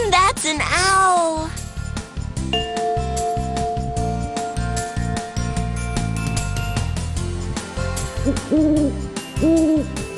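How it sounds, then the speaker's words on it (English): An owl hoots in a few wavering calls at the start and again near the end, over bright tinkling children's music that plays throughout. "I know, that's an owl."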